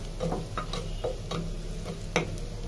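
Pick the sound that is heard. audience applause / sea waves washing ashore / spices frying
spices frying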